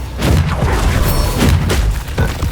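Confringo and Bombarda blast spells going off in Hogwarts Legacy on PS5: a run of loud, booming magical explosions in quick succession, each a heavy thud with a crackling burst, spaced unevenly over a few seconds.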